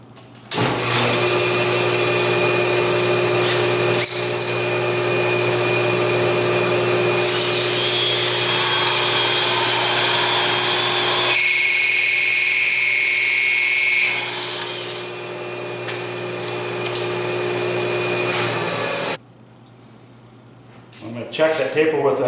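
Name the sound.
sanding disc tapering wood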